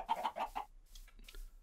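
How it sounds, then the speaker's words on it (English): Chickens cluck in quick soft bursts in the video game Minecraft, a short run of four clucks followed by a couple of fainter calls, quiet and with no voices. "I hear chickens."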